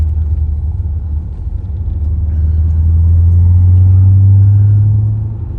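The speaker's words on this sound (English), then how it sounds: "Oh, transmission sounds good." A Mercedes W210 E55 fitted with a swapped manual transmission runs with a deep, loud engine rumble that swells as the revs climb and hold, then eases off near the end.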